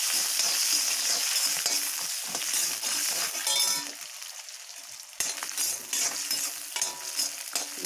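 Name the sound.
sautéing garlic in a pan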